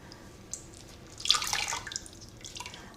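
Dyed grape-colored yarn lifted from a basin of rinse water, with a burst of splashing and dripping water in the middle and lighter trickles trailing off, close by and fairly clear.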